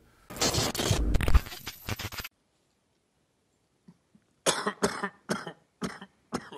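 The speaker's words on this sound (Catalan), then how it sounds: "aquesta tos m'ha de matar" A burst of harsh, loud coughing, followed by a silent pause and then a series of shorter, separate coughs.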